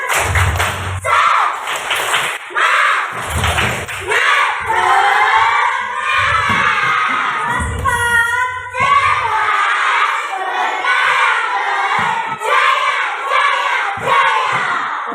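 A classroom of children loudly chant and shout a rhythmic cheer in unison, with claps and thumps punctuating the energetic group chorus.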